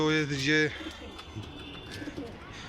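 A pigeon gives a clear, close coo at the start, followed by faint cooing and rustling as someone talks over it.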